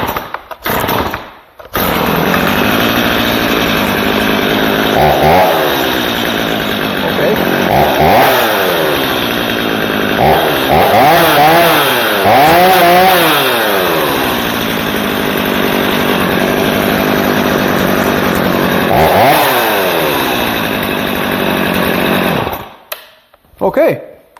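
Stihl MS 230 chainsaw being test-run after a tune-up: loud two-stroke engine snarl close by, revving up and down in repeated rising and falling surges, then cutting off at the end.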